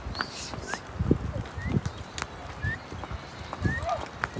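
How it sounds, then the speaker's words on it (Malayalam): Horse hooves clop at a slow walking rhythm during a ride in Pahalgam, Kashmir, with dull thuds under outdoor ambience and high bird chirps scattered throughout. "നമ്മളെ കുതിരൻ്റെ മുകളിൽ കൂടി ഇങ്ങനെ നടന്നുകൊണ്ടിരിക്കുകയാണ്"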